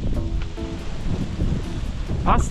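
Gusting wind rushing outdoors during a Pokémon GO raid, a loud continuous blustery roar against the microphone, with faint speech-like fragments underneath.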